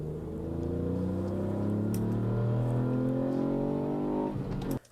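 A Ford Fiesta ST three-cylinder engine hums steadily at low pitch and slowly climbs in revs over several seconds, loud and close, then cuts off abruptly near the end.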